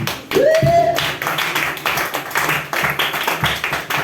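A church congregation claps rhythmically in acclaim of Jesus during a worship service, a steady run of loud hand claps after a brief sung or voiced tone at the start.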